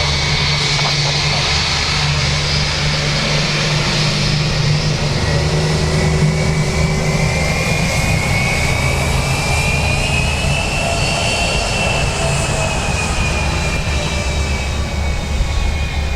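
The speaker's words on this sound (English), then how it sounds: "Qatar Dreamliner." Loud, sustained jet engine roar from a Qatar Airways Boeing Dreamliner at Dublin Airport, with a rising and falling whine sweeping through the noise as the airliner passes close by, and nobody speaking.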